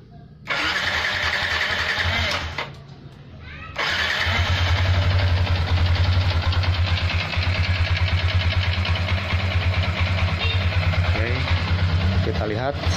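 A motorcycle engine with a leaking head gasket and overheating problem, suspected of pushing compression into the radiator, cranks briefly, stalls, then starts and settles into a steady, loud idle close by. The engine runs alone with no talk over it.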